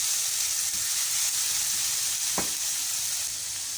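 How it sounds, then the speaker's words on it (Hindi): 1 teaspoon of garlic paste sizzling loudly in hot oil while making bhindi masala, a constant bright hiss with a brief clink of a utensil partway through. "अब मैं इसी ऑयल में 1 टीस्पून लहसुन का पेस्ट डाला मैंने"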